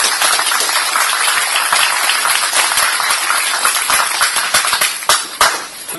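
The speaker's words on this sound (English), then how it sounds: "A big hand of applause for Professor Mackie" A lecture audience at a university talk gives sustained applause, a dense, even roar of many hands clapping that ends with a few louder claps near the close.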